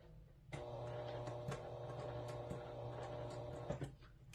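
A sewing machine stitches a zipper fly on a garment, giving a quiet, steady mechanical whir with faint regular ticking of the needle over a few seconds, with no speech.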